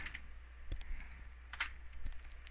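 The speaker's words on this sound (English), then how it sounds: "now from there, what you want to do is type in export" Computer keyboard keys tapped to enter a command on an Android tablet running Ubuntu, a handful of soft, sparse clicks up close in a quiet room.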